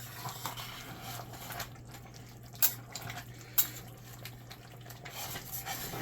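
A spoon stirring and scraping the bottom of a pot of lasagna soup with diced tomatoes, giving steady soft scrapes, faint sizzling, and two sharp metallic clinks against the pot, close and alone.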